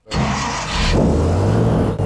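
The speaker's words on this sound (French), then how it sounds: "Démarrez le moteur." A boat engine turns over and catches on the water, settling into a loud, steady roar with a deep low drone, close by and alone with no talk.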